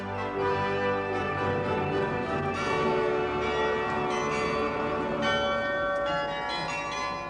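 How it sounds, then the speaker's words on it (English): Carillon bells in a Belgian cathedral tower play a continuous melody, with many bright, ringing bell tones overlapping and sustaining at a steady level and no voices. "the kind you can still hear in the cathedral towers all over Belgium, where the carillon still plays"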